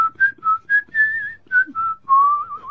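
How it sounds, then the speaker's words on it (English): A person whistles a simple tune alone, clear and close: a run of short, separate notes followed by one longer, wavering held note. "I'm concentrating on whistling."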